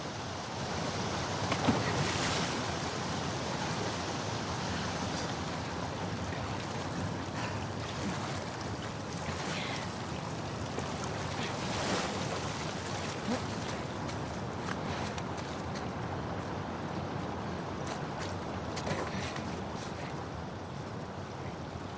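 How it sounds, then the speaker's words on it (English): A fast-flowing torrent of water rushes through the Seattle sewers in The Last of Us Part II, a continuous, dense roaring wash that holds steady throughout with no breaks. "the player was faced with a fast-flowing torrent of water they couldn't cross"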